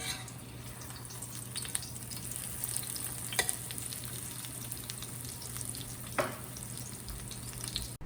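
Coconut shrimp fry in oil with a soft, even crackle and a low hum behind it, plus a few faint clicks. It stays quiet and steady, with no voices.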